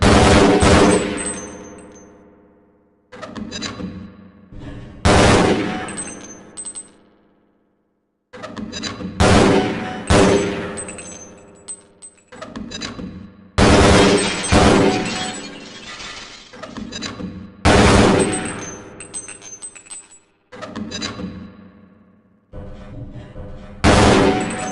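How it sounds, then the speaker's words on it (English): In Half-Life: Blue Shift's training target range, a grenade launcher fires repeatedly and targets shatter, loud bursts of breaking glass and blasts arriving in separated clusters with short silences between. "To fire the grenade launcher, use the alternate fire button. Some targets can only be destroyed by lobbing grenades."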